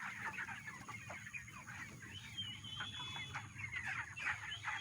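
Broiler chickens cluck steadily throughout a poultry farm shed in Assam, a dense overlapping flock chorus at moderate distance, with a low rumble of house noise beneath and no voices.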